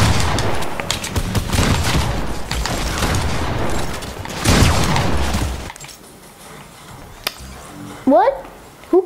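Gunfire from a sniper rifle in the video game Fortnite, played on an Xbox One S, comes as a burst of loud, dense shots over the first half. It then drops to quieter game sounds, with a voice talking throughout.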